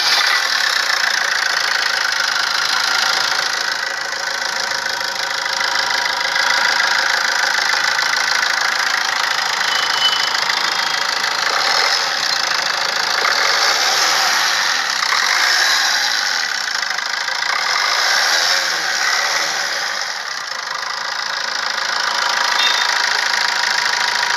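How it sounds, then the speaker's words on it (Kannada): Diesel engine of a 2015 Maruti Ertiga VDI car in very good condition idles steadily, a continuous close mechanical hum with a faint knocking texture running throughout, no voices. "ಇವಾಗ ಗಾಡಿ ಸ್ಟಾರ್ಟ್ ಮಾಡೋಕ್ಕೆ ಕೊಡ್ತಾ ತೋರಿಸ್ತೀನಿ ಸೌಂಡ್ ಹೆಂಗಿದೆ ಅಂತ"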